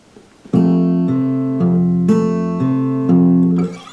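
Acoustic guitar fingerpicked through the four repeating chords of a song, each chord change landing about every half second in a steady, close, ringing pattern with no voice.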